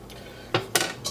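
A pan set down with a couple of sharp metallic knocks on a stovetop while cooking a traditional English dish, followed by a lighter clink; close and clear, no talk.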